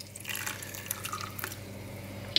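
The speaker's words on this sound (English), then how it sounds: "I'm gonna use a splash of apple cider vinegar for the acid." A splash of apple cider vinegar is poured into a salad dressing, giving soft, close liquid trickles and drips, faint and brief.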